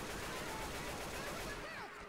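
Machine gun fire in Left 4 Dead 2 rattles in a dense, continuous burst at moderate volume, with faint voices underneath.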